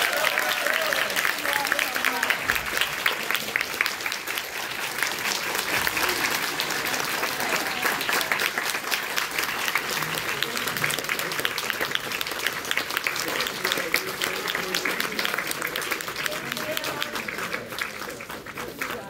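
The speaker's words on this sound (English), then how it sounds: "Please give a big round of applause." A comic con panel audience for a Twin Peaks event breaks into sustained applause, a dense steady wash of clapping from a large crowd filling the hall, with some voices under it.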